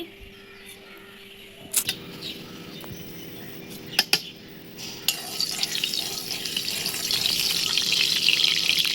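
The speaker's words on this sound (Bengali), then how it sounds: "তেল একটু দে তেল লাগবে হবে কালো জিরে ফোড়ন দিয়ে দিচ্ছি" Black cumin seeds tempering in hot oil for a village-style taro-leaf and egg dish, a few sharp clatters early, then a rising, steady sizzle that grows louder toward the end.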